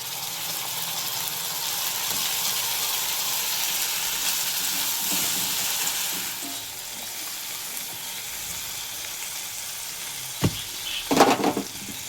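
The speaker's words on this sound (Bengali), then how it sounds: "রসুনটা একটু তেলের মধ্যে একটু দিয়ে নাড়াচাড়া করে নিয়ে" Two crushed garlic cloves frying in oil for a tilapia fish curry give a dense, even sizzle that softens halfway through, then a few quick clatters of a stirring utensil near the end, with no talking.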